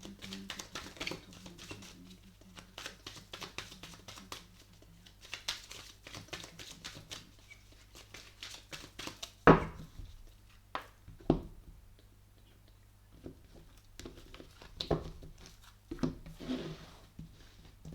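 Oracle cards shuffled and drawn for a Taurus reading, soft irregular tapping and flicking with a few sharper snaps, close and fairly quiet, no voices.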